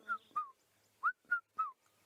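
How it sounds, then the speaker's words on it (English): A cuckoo calling outdoors during a sunrise drive, giving five short, clear whistled notes in two spaced groups, moderately close and alone with no talk. "We've said we wanted to show you a cuckoo, and we found one, and it's one of my favorite because of that call."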